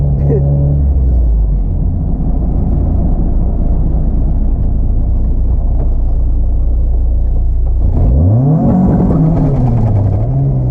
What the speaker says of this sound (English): I'm giving it full throttle, it doesn't like it.